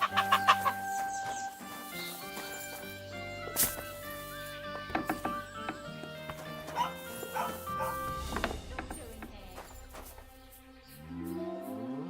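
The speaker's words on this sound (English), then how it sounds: "You'd better call back that dog." Dog barking in the video game Kingdom Come: Deliverance II, mixed with clucking chickens, a crowing rooster and farmyard ambience, with tonal game sounds layered throughout.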